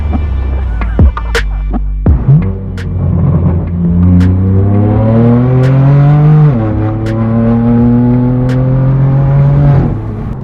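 A straight-piped BMW M4 F82 exhaust roars loud and close, its pitch climbing steadily under hard acceleration. It drops sharply at each upshift, then climbs again.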